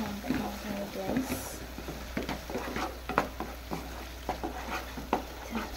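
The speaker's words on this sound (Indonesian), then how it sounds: "Kita aduk dulu sampai matang ya guys." Spices, cinnamon, nutmeg and chili being stirred in a sizzling pan for sate padang, with repeated scraping strokes over a steady frying hiss and a voice talking over it.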